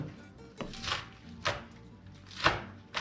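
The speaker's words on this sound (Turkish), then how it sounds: "Bıçakla doğruyoruz." A knife chops vegetables on a cutting board while making tacos: four or five crisp, separate strikes at an uneven pace, close and fairly quiet.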